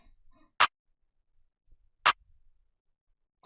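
Sparse clap and snare hits from a hyperpop/glitchcore beat: three sharp, isolated strikes roughly a second and a half apart, fairly quiet, with near silence between them.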